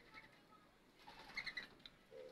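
Collared doves give soft, faint cooing calls nearby, low and brief against a quiet background.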